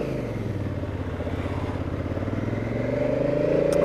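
Honda Africa Twin motorcycle riding along, a steady engine drone with a rising pitch as it accelerates, close and continuous, no talking.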